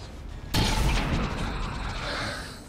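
A single sharp gunshot from XCOM 2 cracks out loud and close, followed by a rumbling, debris-laden tail that fades slowly over a couple of seconds.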